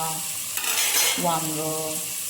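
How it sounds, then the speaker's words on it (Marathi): Vegetables and brinjal for Gujarati undhiyu are sautéed and stirred in a pan, giving a brief bright hiss of frying under prominent tonal background music, with a quick scrape near the start. "वांग सुद्धा आता परतून घेत आहे"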